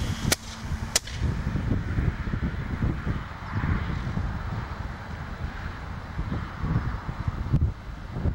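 Steady wind buffeting a microphone outdoors in a light north breeze of about 5 knots, a continuous low rumble throughout with a couple of sharp clicks near the start.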